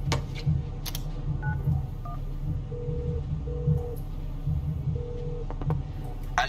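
Telephone keypad dialing tones from a phone call in a FIFA 19 story-mode cutscene: a handful of short, evenly spaced beeps over a steady low background hum, with no talking.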